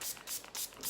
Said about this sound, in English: I'm just going to give it a good old spray with some water.